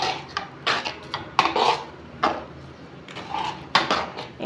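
Food mixed with oil being stirred in a vessel, giving a few irregular scraping and clinking strokes of a utensil against the pot, close by with no talking.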